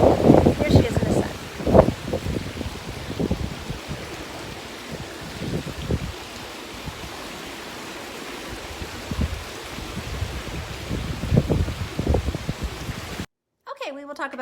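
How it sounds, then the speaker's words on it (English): Steady outdoor wind rushing and buffeting a microphone, with bursts of low rumble, while someone talks intermittently over it; it cuts out abruptly near the end. "it is really windy"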